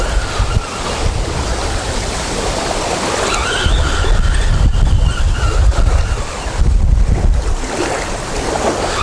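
Wind blows hard and continuously across the Dnipro River in Kyiv, buffeting the microphone with rushing gusts and lapping waves, no talking.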